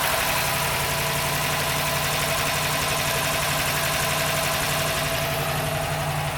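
A 1954 Buick engine idles steadily at close range, a continuous even rumble with a faint rough knock running through it and no voices.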